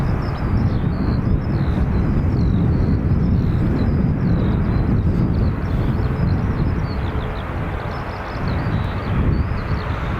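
Delta Airbus A330neo taking off from runway 28 right at Dublin Airport, a loud steady jet engine roar with gusty wind rumble, sustained throughout at close range.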